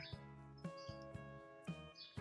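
Baby birds perched close by give repeated, faint, high chirps in quick succession over a couple of seconds.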